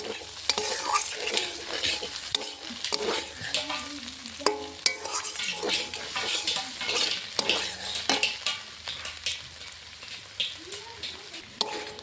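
Fish swim bladder chorchori fried in fish oil is stirred in a pan, with close, steady sizzling and repeated scraping and clinking of a spatula against the metal throughout.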